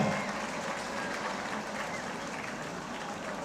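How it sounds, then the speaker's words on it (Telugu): An audience claps at a talk, a faint, even patter of many hands that holds steady from start to finish. "జెన్జీ అందరికీ give a big round of applause"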